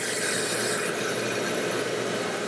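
A snow machine blower producing artificial snow at a Christmas special-effects expo, a loud, steady rushing hiss with no breaks and no voices.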